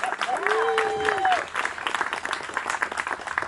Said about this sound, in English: let's give labor a big round of applause